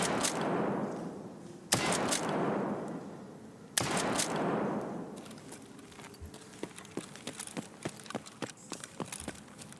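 Gunfire in the video game Escape from Tarkov: three loud, widely spaced rifle shots ring out with long echoing tails, followed by a string of quicker, lighter cracks and clatters, with no talking.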